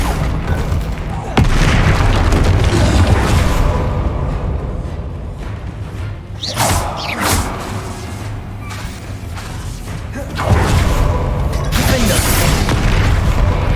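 Confringo fire spell blasts in the Hogwarts Legacy video game, heavy booming explosions over a dense, loud game soundscape, with bursts around two, seven and ten seconds and continuous rumbling in between.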